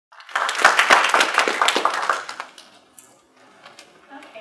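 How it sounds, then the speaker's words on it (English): An audience at a Donate Life workplace event claps for the next speaker: a lively burst of applause swells for about two seconds, thins out and fades, leaving scattered quieter sounds. "let's give her a round of applause"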